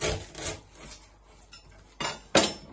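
A knife trims the ends of a vegetable on a cutting board: soft scraping and a few sharp knocks of the blade against the board, close and fairly quiet, with no talking.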